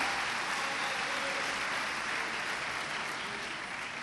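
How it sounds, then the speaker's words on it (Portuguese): A church congregation claps together during a sermon, a continuous, fairly soft wash of applause heard from some distance with no voices standing out. "Você pode aplaudir o nome do Senhor Jesus?"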